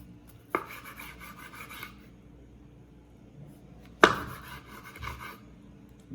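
A knife cuts up smoked sausage on a board, with two sharp strikes, each followed by a short scraping rasp, set apart by a quiet gap.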